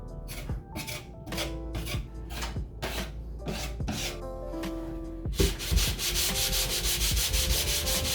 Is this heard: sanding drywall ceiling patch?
yes